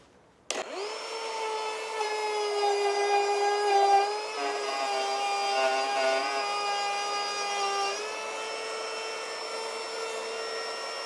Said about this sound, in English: I'm going to start the router and then guide it down into the workpiece like this